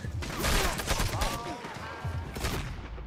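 Gunfire crackles in Red Dead Redemption 2, a dense fusillade of shots from several directions rattling close by, with a voice talking over it.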